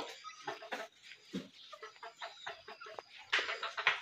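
Hens on a poultry farm cluck and squawk in a busy run of overlapping calls, fairly close, with sharper cackles rising near the end.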